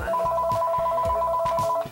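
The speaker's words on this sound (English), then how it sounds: "Phone." Telephone ringing with a steady, rapid electronic trill in two tones, repeating throughout in a quick pulsing pattern, fairly loud and close indoors with no talking.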